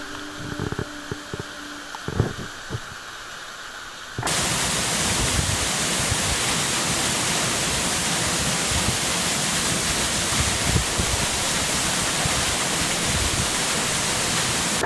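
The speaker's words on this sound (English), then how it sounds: "This was a great payoff for us to reach this waterfall right here, Pool of the Winds at Hardy Falls." Waterfall at Pool of the Winds, Hardy Falls, near Beacon Rock State Park, roaring loud and steady after a quieter opening with a few faint knocks; no voices are heard.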